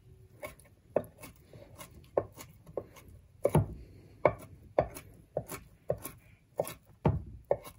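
A knife rough-chops imitation crab steadily on a cutting board, crisp thuds coming in an even, moderately quick rhythm, close up with no talking.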